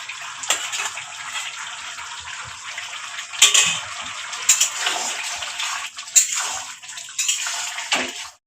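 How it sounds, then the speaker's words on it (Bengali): Previously boiled water poured into a pan of goat meat curry with potatoes and spices, a steady splashing gush with a few sharper splash bursts, close and fairly loud, no talking. "এবার সেদ্ধর মধ্যে যে জলটা ছিল সেই জলটা দিয়ে দিল"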